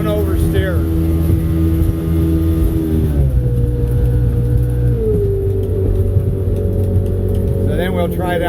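An 18 ft sport jet boat with a 120 hp engine runs loudly with a steady drone, then throttles down partway through to a lower hum, with voices briefly audible over the motor.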